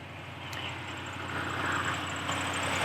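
A Range Rover L322 with 166,000 miles idles steadily just after start-up, a low, even rumble with a faint repetitive pulse and a slight high whine, fairly quiet and continuous.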